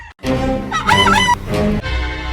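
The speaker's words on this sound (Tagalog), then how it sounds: "Puti nga manok." A white chicken squawks and clucks loudly nearby in a few harsh, drawn-out calls with short breaks between them.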